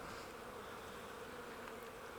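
Honey bees drone around open hive frames in a steady, faint, continuous buzz with no voices over it.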